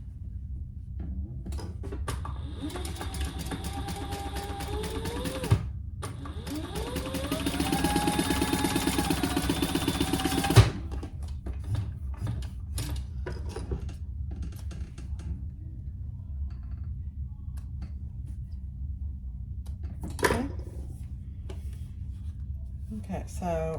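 A Singer sewing machine stitches cotton quilting fabric for a hobo shoulder bag, a steady mechanical whir in two runs of a few seconds each, with scattered clicks and handling noises and someone speaking at times.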